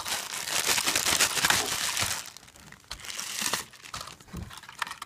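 Crinkly plastic packaging is crumpled and torn open to free the wrist rest of a Corsair K95 RGB keyboard. The crackling comes in dense, loud bursts that ease off partway through, then return with a few sharper rustles.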